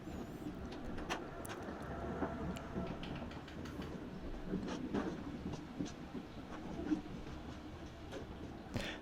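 At Cikampek station, a train hauled by a CC206 locomotive sends a low, faint rumble with scattered metallic clicks and knocks, heard from some distance without talk.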